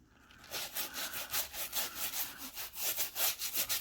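A brush works Quick N Brite cleaner into a shoe in quick, even back-and-forth strokes. The rhythmic scrubbing is close and clear, with no talk.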